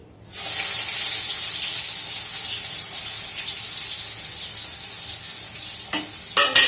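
Chopped onions drop into a hot pan and burst into a loud, bright sizzle that slowly eases, followed near the end by a few scraping stirs of a utensil, close by with no voices.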